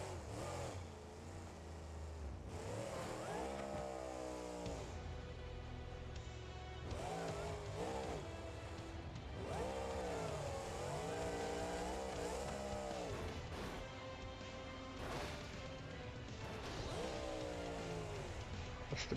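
V12-engined car in the BeamNG.drive driving simulator, revving repeatedly in rising and falling sweeps through several surges, loud and close, with brief tire squeal between pulls and no talk.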